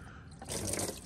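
Water pours from an old 1934 Oldsmobile hearse into a cut-down plastic trash-can bucket, a soft dripping trickle that swells into a steadier, fuller splashing flow partway through, close by and continuous.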